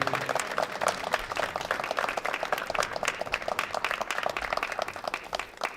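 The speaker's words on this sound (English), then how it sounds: "Big applause for Milan Smiljanic." Applause for a Serbian referee at a European junior classic powerlifting event, a moderate crowd clapping in a fast, uneven patter that carries on steadily throughout.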